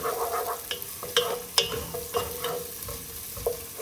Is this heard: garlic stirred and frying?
yes